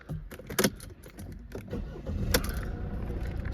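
A Mercedes-Benz E220d 2.1-litre diesel cranks with a short burst of starter whirr and then settles into a steady, close idle, with faint clicks and rustling around it.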